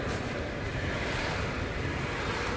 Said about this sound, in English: the normal wind noise will be here